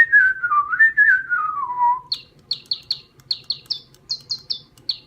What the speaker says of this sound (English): This little birdie's whistling up quite a tune.